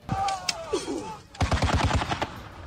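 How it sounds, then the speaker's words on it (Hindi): Russian soldiers open fire on fleeing people in Ukraine, with loud rapid bursts of automatic gunfire cracking in quick succession, preceded by a whistling streak and mixed with distant shouting. "भागते लोगों को निशाना बनाने के लिए रूस के सैनिकों ने उन पर ताबड़तोड़ गोलियां चलानी शुरू कर दी"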